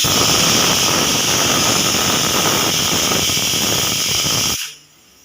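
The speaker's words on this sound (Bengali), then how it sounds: "এদিকে প্রেশার কুকারে মটর বসিয়ে দিয়েছে" A pressure cooker full of peas vents steam in a loud, continuous close-up hiss that cuts off abruptly near the end.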